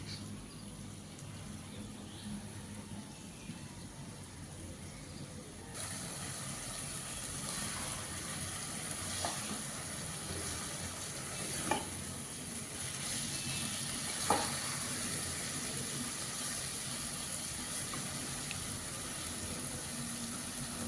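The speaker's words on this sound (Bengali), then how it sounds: "কচুর শাকগুলো আমি 3-4 মিনিট নেড়ে নিয়ে তারপর 2 মিনিটের জন্য ঢাকা দিয়ে দেবো।" Taro leaves (kochu shak) stirred and frying in a pan, giving a steady, quiet sizzle with a few soft scrapes and clicks of the spatula, fairly close and alone with no voices.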